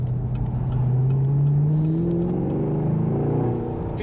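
A Chevrolet Camaro SS convertible's V8 with a six-speed manual blips and revs as it rev-matches on a downshift, the engine note sweeping upward and then holding steady, close and fairly loud with no talking.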